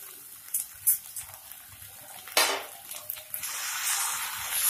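Spoon stirring fish korma masala with poppy seed paste and whisked yogurt for Vetki fish korma in a pan, giving scattered clinks and scrapes over a soft sizzle that grows toward the end, close and without talk.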